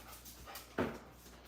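Quiet puppy sounds: faint soft whimpers and a brief louder breathy yelp or pant midway, close but low in level.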